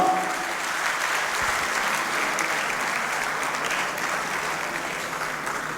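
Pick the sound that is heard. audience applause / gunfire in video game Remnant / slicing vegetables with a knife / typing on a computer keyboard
audience applause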